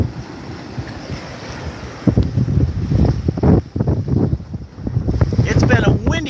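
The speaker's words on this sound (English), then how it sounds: "of course it's windy right now" Strong wind gusts across Pensacola Beach at sunrise, buffeting the microphone in loud, uneven bursts over a low roar of surf, with a voice talking at moments amid the blustering.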